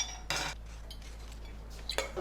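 Dishes and cutlery clink while lunch is prepared in a home kitchen, with two clear metallic clatters and lighter scattered knocks close by against a low steady hum.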